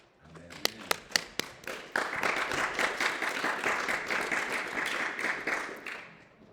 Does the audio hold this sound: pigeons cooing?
no